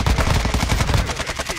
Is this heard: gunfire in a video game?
yes